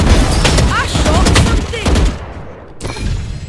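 Rapid bursts of gunfire crack out in the first-person shooter Valorant, loud and close, mixed with in-game effects and a player's voice, then dropping away before a final softer burst.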